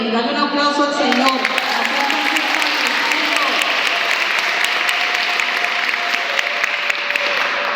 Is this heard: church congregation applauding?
yes